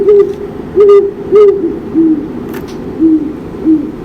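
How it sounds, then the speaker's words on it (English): An owl hoots repeatedly in a steady series of low, mellow calls spaced about half a second apart, with a faint high chirp partway through. "And then there was the big brown owl who called."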